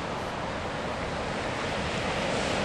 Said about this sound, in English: And you can see the waves coming in.